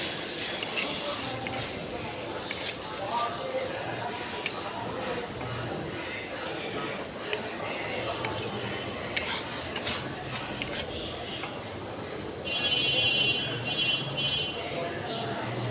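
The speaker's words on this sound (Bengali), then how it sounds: "পরিমাণ মতো পেঁয়াজ ও রসুন, পরিমাণ মতো তেল দিয়ে 2-3 মিনিটের মতো করলাগুলো ভেজে নেব" Bitter gourd frying in oil with onion and garlic, a soft continuous sizzle under stirring and a few clinks of a utensil against the pan, with brief louder scraping toward the end.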